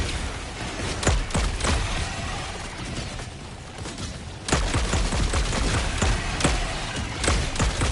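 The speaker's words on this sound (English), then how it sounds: "we're cooking with the mortars" Mortar fire in the video game Helldivers 2, a string of sharp booming blasts and thuds at irregular intervals over a continuous battlefield rumble, with no speech.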